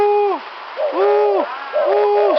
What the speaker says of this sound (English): This is a very special cuckoo bird.